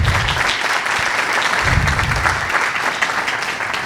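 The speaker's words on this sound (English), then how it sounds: "I just want to give Scott a round of applause." Audience applause for Scott at an Andrew Yang campaign stop in Dubuque, Iowa: a steady, dense round of clapping from a crowd, fairly loud and close, with no speech over it.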